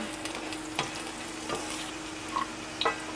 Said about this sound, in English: brown the garlic